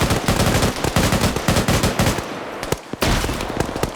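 Rapid machine gun bursts crackle in a PvP video game match, loud and close, with stuttering strings of shots broken by a brief pause near the end.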